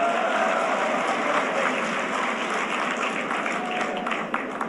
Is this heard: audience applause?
yes